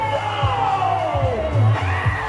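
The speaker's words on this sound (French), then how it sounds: "Quand t'entends les gens crier" A crowd at a dance battle yells, whoops and cheers loudly in short overlapping bursts, rising and falling over a dense, noisy background of voices.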